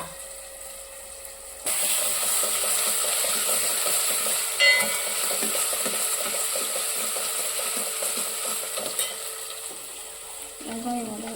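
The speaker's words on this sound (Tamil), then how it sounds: "வெங்காயம் வதங்கட்டும்." Onions sautéing in a pan for fish curry, a steady close sizzle that starts abruptly and carries on loud and even, with faint stirring scrapes.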